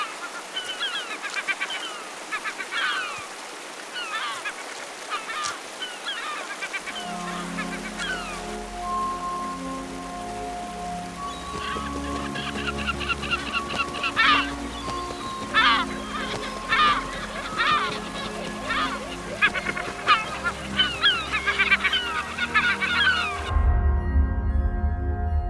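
Seabirds feeding on salmon leftovers give a chorus of squawking, honking calls over water and splashing, near and overlapping, with a low rumble of surf building in the background.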